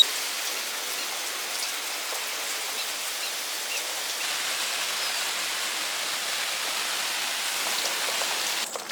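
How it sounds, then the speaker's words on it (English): A steady hose spray rinses rooftop solar panels, a continuous broadband hiss of water splashing on the glass surface, even and unbroken for the whole stretch. "ready to rinse the panels off"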